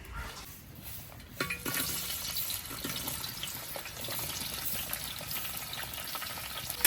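Onion and capsicum fry in oil in an uruli, giving a steady, fairly faint sizzle and crackle that runs unbroken throughout with no talk over it.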